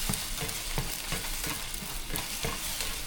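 Bison meat and eggs sizzle quietly in a cast iron pan over a fire. A steady frying hiss is broken by rhythmic scraping or stirring strokes, with no talking.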